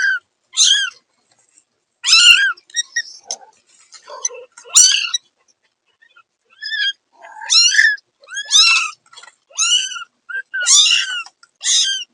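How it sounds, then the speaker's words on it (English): Several feral kittens in a backyard den meow together as their mother cat returns. The high, wavering cries come in repeated overlapping bursts with short pauses between them, close and clear, with no other sound behind them. "they erupt in a chorus of meowing"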